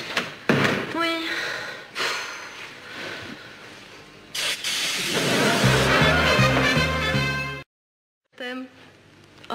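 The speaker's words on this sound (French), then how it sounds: "Dis, Stéphane, t'oublies pas de claquer la porte en partant." A door slams shut in a French sitcom apartment scene, heard as several sharp, loud thuds amid busy room noise and talking, with a brief dead silence near the end.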